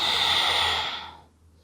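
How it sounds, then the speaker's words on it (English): A long breathy exhale close to the mic during a myofascial hip-release exercise, strong at first and then trailing away into near silence, with no talking. "Exhale and breathe in."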